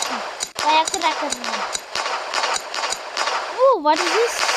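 Firecracker set off in the fireworks game Fireworks Mania: a run of sharp, repeated crackling pops and bangs over about four seconds, loud and close, with a rising whistle-like tone near the end.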